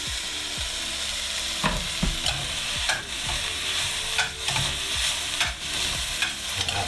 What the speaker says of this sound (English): Next thing we're going to do is we're going to add our baby bok choy